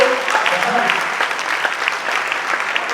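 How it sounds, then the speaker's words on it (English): Crowd at a live stand-up comedy show breaking into applause: loud, sustained clapping throughout, with faint voices mixed in near the start. "give it a round of applause"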